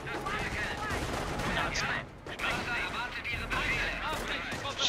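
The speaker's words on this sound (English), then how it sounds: "I think the machine gun's glitched." Machine gun fire and other weapons in a Company of Heroes battle, steady rattling bursts with distant booms, continuous and fairly loud behind a talking voice.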